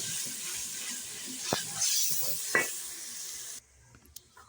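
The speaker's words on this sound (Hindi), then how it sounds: "मसाला हमारा भुनने ही वाला है।" Masala spices fry and sizzle in a pan for chana dal with bottle gourd, a steady hiss with a few stirring knocks before cutting to near quiet.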